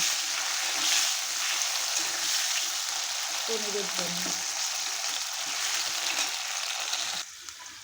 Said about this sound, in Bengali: জিরের পরে আমি দিয়ে দিলাম আলুটা এখন আমি লাল করে ভেজে নেব